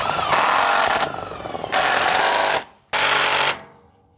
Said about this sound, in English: drilling into the timbers